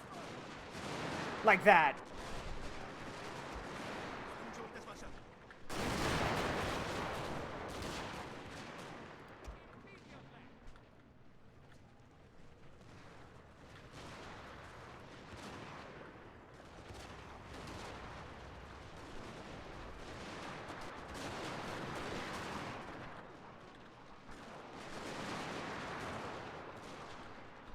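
Troops in Total War Shogun II fire in volleys. Bursts of gunfire and rumbling fusillades rise and fall throughout, with a sharp crack early on, under intermittent talk.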